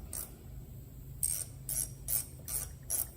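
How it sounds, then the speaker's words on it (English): A bolt on a 2013 Harley Davidson fuel filter is loosened with a ratcheting wrench, giving four or five short, close clicking bursts over a low steady hum. "We'll go ahead and pull this"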